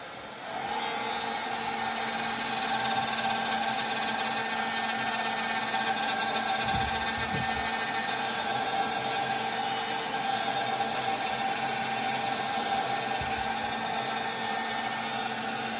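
Hair dryer blowing on wet paint, a steady, loud whirring hum that runs without a break from start to finish, with no talking.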